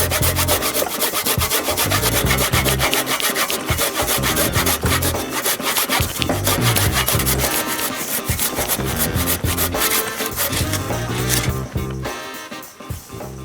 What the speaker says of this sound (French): C'est reparti pour scier